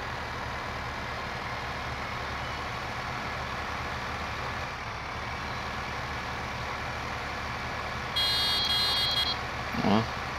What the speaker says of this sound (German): Ja, sehr blechend die Hupe